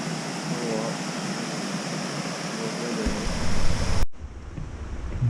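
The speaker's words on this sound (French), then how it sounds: "Une cascade." Steady broadband rush of a waterfall in the Yakushima forest, a constant roar of falling water heard fairly close, with a brief handling bump near the end.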